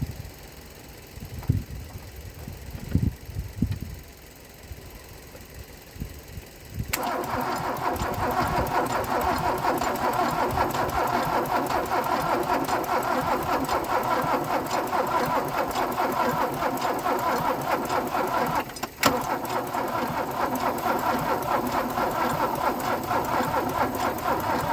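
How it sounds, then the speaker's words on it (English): A Mercedes W123 300D diesel, parked for twenty years and running on very old fuel, cranks in short irregular bursts, then catches at about seven seconds and settles into a steady, loud clattering idle that runs to the end. "I still want to see if it'll start on really old diesel for the crack."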